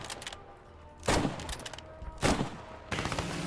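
Gunfire on a practice range in the video game Squad 44, with bursts of shots at targets landing in three clusters over a steady background.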